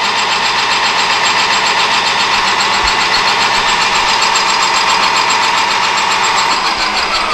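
Lathe boring a thin-walled metal part down to about an eighth-inch wall, a steady broadband machining whir running continuously and loudly throughout, with no talk.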